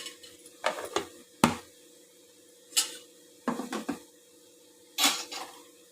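A utensil stirs cabbage curry with ginger-garlic paste in a metal pan, giving scattered scraping and clanking strokes, some in quick pairs, over a low steady background hum.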